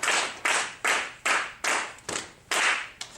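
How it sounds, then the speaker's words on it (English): Single hand claps marking binary ones in a rhythm exercise, about eight sharp, distinct claps in a fairly even pattern, each with a short room ring, close and alone with no talk. "So now we've made the 1s be a clap and the 0 be something else."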